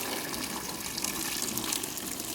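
Boiling water is poured steadily into a glass for eco printing, a soft continuous splashing gush lasting a couple of seconds, fairly quiet and close.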